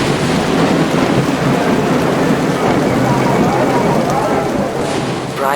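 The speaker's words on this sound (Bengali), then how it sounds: "বাইরে তখন মুষলধারে বৃষ্টি হচ্ছে" Heavy rain pours outside a stopped train in a dense, unbroken roar that stays loud throughout and fades slightly at the very end.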